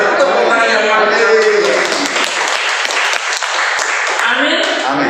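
A church congregation applauds during a worship service, dense clapping mixed with cheering voices and a loud, busy crowd sound that fills the whole stretch, close and sustained.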